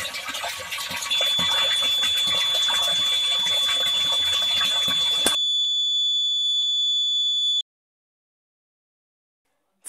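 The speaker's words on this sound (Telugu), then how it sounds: "సర్క్యూట్ క్లోజ్ అయ్యి ఇంట్లో ఉన్న అలారం మోగుతుంది" A homemade water tank full alarm rings with a steady, piercing electronic buzzer tone over loud rushing water noise, then continues alone for a couple of seconds before cutting off abruptly.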